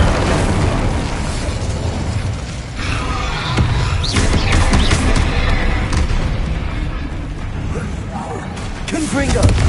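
Incendio fire spell cast in the middle of Hogwarts Legacy combat, a sustained, loud stretch of crackling bursts, thuds and clanking effects layered together, with scattered vocal sounds.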